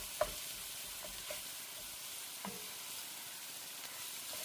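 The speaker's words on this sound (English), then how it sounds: "Now I'm going to break that apart and continue cooking and browning the meat." Ground beef browns in a pan with a soft, steady sizzle and a few faint scrapes and taps of a utensil breaking up the meat, quiet and close.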